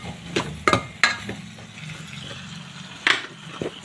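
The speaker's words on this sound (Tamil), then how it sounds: "நல்லா கொதிச்சிட்டு தக்காளி போட்டு கொஞ்சம் வசக்கிட்டு இருக்கலாம்." Tomatoes sauté in a pan, a low, steady sizzle broken by a few sharp clanks and scrapes from stirring, close up and with no voices.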